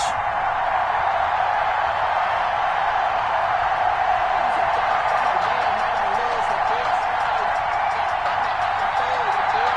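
A stadium crowd roars in Madden NFL 21 before a Chicago Bears versus Arizona Cardinals game, a steady dense wash of cheering throughout while an announcer talks over it.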